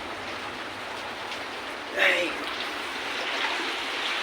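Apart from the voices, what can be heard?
rain falling with running water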